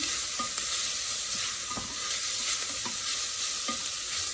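Soup vegetables sauté in a pot for a vegan white bean and spinach soup, giving a steady close sizzle with a few soft scraping strokes of the stirring spoon and no talk.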